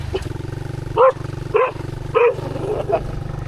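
Dogs bark several times in short bursts on a Thai beach at Chao Lao, heard fairly close over a steady low engine-like drone, with people talking nearby.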